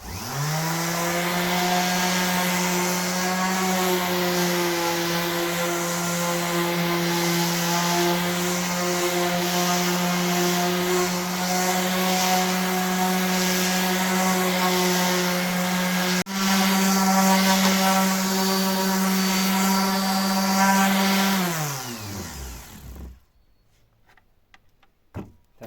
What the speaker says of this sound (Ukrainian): Закінчив шліфувати.